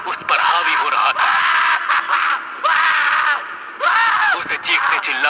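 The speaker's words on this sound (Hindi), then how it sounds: "ये देख वो जोर जोर से चीखने चिल्लाने लगा" A man in an anime fight scene, dubbed in Hindi, screams loudly in pain. The raw cries come in several long, strained bursts separated by short gasping breaks, close and intense throughout.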